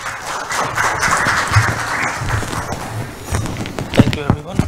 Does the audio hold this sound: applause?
yes